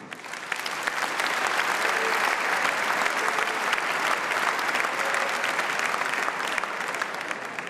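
Applause rises from the audience at the 2014 Fryslân sports gala as an award presenter is introduced, swelling within the first second into sustained, even clapping from a large crowd.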